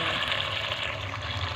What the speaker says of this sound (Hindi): अब इसमें हल्के से पानी ऐड कर देंगे।